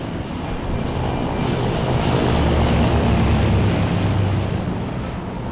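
A propeller aircraft roars overhead near an airport in the zombie video game Left 4 Dead 2, a loud, steady engine drone that swells and then eases slightly across the few seconds, with no voices.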